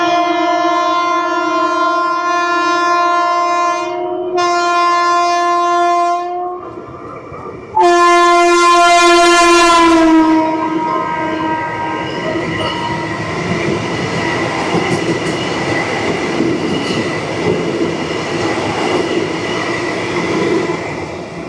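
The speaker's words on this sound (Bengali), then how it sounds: "একটা বন্দে ভারত ক্রস করছে।" A Vande Bharat train on the Katra–Srinagar rail line sounds a long, loud multi-tone horn, pauses, then blasts it again before the rushing, rumbling roar of the passing train takes over and continues steadily.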